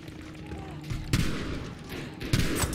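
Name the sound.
gunfire from a gun in the video game Battlefield V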